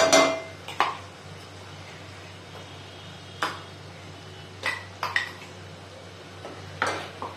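Metal spatula scrapes and clinks against a pan in a few sharp, separate bursts while ground masala paste is stir-fried for a spicy Pandharpur-style dal amti, with quiet background between strokes.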